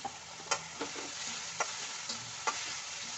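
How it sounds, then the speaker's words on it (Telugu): Chana dal frying in a pan for a curry, a steady close sizzle broken by several sharp scraping stirs of a spoon at irregular intervals. "శనగపప్పును వేసుకొని కొంచెం వేగనేయండి"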